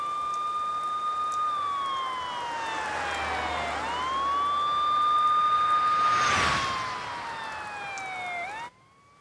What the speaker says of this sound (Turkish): Hayatım ne oluyor orada, sirenler falan?